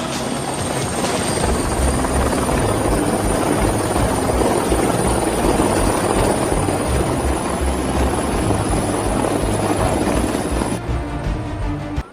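A helicopter's loud, steady rotor and engine roar fills the whole stretch, close and constant, then drops off abruptly near the end.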